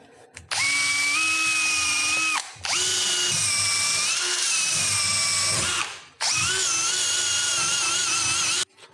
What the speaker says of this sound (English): I'm going to brush off this area where the bleed port is.